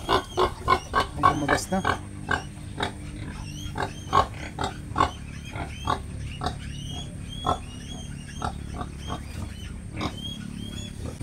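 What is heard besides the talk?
sow (native breed pig) grunting while giving birth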